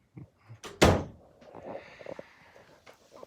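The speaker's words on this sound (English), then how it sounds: "Lock the door." A door swings shut indoors with a single loud, close thud, followed by quiet room sounds and faint shuffling movement.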